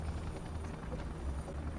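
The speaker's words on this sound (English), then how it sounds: "I have to move the chopper higher." A helicopter in the 2005 video game Vivisector: Beast Within gives off a loud, steady rotor and engine drone that fills the whole stretch with no other sounds.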